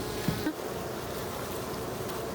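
Agitated honey bees inside a hive with an intruding wasp, a dense, steady loud buzz filling the whole stretch, with a couple of brief sharper tones near the start.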